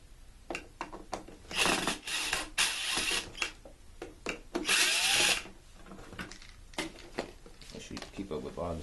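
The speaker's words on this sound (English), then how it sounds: "I'll take my drill and take it out here." An electric drill whirs in several short bursts with clicks and rattles between them as screws are backed out of a Bissell lift-off turbo vacuum, with a person talking at times.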